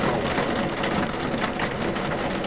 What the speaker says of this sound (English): And I apologize for the rain.